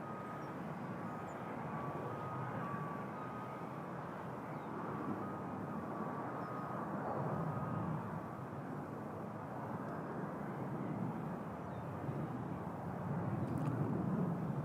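Airbus A330 airliner rolling out on the runway after landing at Toronto Pearson, a steady broadband jet engine roar with a faint high whine, heard from a distance and holding evenly throughout with no talk.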